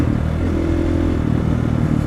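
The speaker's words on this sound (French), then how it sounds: "tu tapes un peu de gaz" Supermoto motorcycle engine running loud and close, a brief throttle blip over a rough, clattering idle with no talk.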